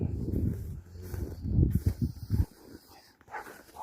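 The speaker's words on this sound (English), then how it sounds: "Barking at the other dog." A dog barks outdoors at another dog, a burst of loud, close barks in quick succession that stops abruptly, followed by quieter rustling.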